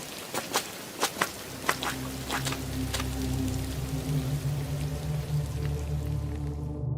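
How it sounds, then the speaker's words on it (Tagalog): Quick footsteps walking through light rain, an audio drama effect: a few sharp steps near the start, then a steady patter of drizzle with soft footfalls continuing underneath, no voices. "Sinamantala nga namin ni Inay ang paglalakad habang mahina pa ang ulan. Mabilis ang aming mga hakbang."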